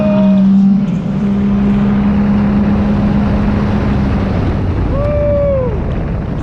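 A Sea-Doo RXP-X 325 jet ski launches at full speed, its engine a steady loud drone that shifts in pitch near the end, with heavy wind and water rush throughout.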